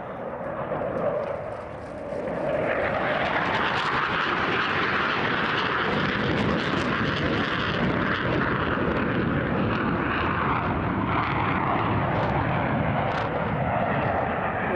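A Pakistani JF-17 Thunder single-engine fighter jet passes at an air force display, building to a loud, sustained, rumbling roar with a broad jet hiss that holds steady without talk.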